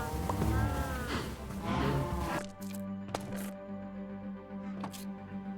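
Cows in the video game Minecraft give several low, drawn-out moos, loud at first and then quieter, over a steady game background with a few clicks.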